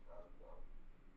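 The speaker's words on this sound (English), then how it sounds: "you even hear a dog barking in the background" A dog barks faintly in the background, two short muffled barks at a distance under a steady low hum, with no one speaking.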